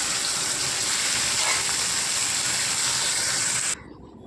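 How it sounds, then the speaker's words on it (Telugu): Tempering spices sizzle steadily in hot oil for a Sorakaya Badatha bottle gourd dish, a loud continuous frying hiss that stops abruptly near the end. "చూడండి, తాలింపు వేసేసానండి"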